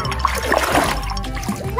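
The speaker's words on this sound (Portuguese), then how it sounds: "Eu tô brincando de balãozinho de água com a Carol." A child's water balloon game, with sloshing and splashing water and a few faint squeaky accents, heard steadily and up close.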